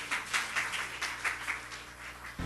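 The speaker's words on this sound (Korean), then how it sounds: "우리 하나님 박수 올려드려요" Brief, fairly faint applause from a church congregation during a Sunday sermon, clapping in uneven bursts that fades toward the end.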